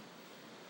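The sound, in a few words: recording of crashing ocean waves played on TV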